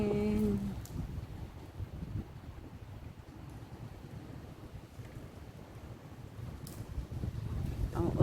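Cold wind carrying sand and rain gusts hard against the microphone, a continuous broad roar with rumbling buffets that swell louder near the start and end.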